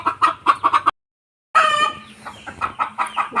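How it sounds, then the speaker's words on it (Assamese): Hens clucking loudly and repeatedly in a rapid, agitated series, a brief pause, then more drawn-out squawking calls close by. "কুকুৰা দেখিছেনে কিমান চিঞৰি আছে?"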